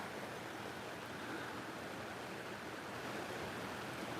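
Flash flood water rushes through a desert in a steady, faint broadband roar with no break and no voices.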